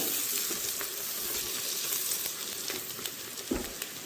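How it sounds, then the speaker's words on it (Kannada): Sliced green chillies and onions fry steadily in a pan, giving a continuous close sizzle with a few soft stirring knocks and no talk. "ಇದು ಹಸಿಮೆಣಸು ಸ್ವಲ್ಪ ಹುರಿದಾಗಿದೆ."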